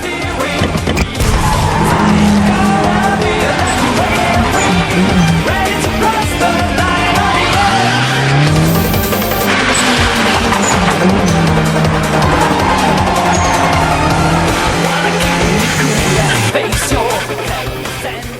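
A racing car drifts with long squealing tires over a loud, sustained engine roar, the screech sliding in pitch as the car slides, all close and loud without talk.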